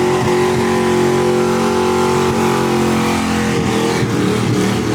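A battered Ford Mustang doing a burnout at a car meet, its engine roaring loud and close with a rough, sustained rev that holds steady for the whole stretch.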